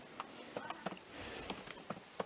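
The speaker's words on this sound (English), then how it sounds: "Sorry guys for my typing." Hard, sharp keystrokes on a new PC computer keyboard, a dozen or so uneven clacks in quick irregular bursts, close and fairly quiet with no talking.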